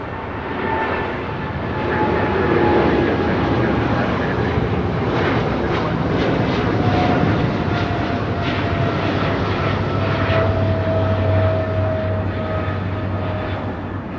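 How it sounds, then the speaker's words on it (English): A Korean Air Cargo Boeing 777 freighter takes off at LAX, a broad roaring jet engine rumble with shifting whine, steady and fairly loud from a distance throughout. "This is Korean Air Cargo 208 taking off to Seoul on a 777 freighter."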